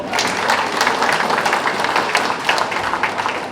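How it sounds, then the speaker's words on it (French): Guests at a charity fashion gala for sickle cell disease applaud themselves, a full, loud wash of crowd clapping that holds steady throughout with no speech over it. "Applaudissez pour vous-même d'abord."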